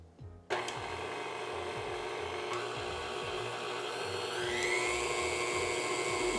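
Electric mixer whirring steadily as it beats buttercream frosting with powdered sugar, starting abruptly and running at a constant hum with faint rhythmic thumps and a slight pitch rise near the end.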